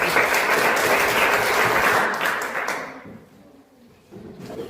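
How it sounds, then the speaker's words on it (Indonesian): A classroom group clapping together after a lesson presentation, a dense burst of applause that stays loud for a couple of seconds, then tapers off into quieter room noise. "tepuk tangan untuk kita semua"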